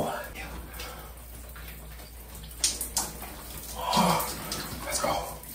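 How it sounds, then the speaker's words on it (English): Cold shower water running steadily as a broad hiss, with a person talking and exclaiming over it. "I'm going to finish my shower."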